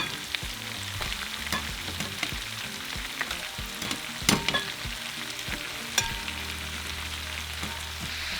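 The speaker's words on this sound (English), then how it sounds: "we're just going to cook our nopales and chorizo together for a couple minutes" Steak, nopales and chorizo fry together in a pan, a loud close sizzle with frequent scraping and knocking from stirring, steady throughout with no speech.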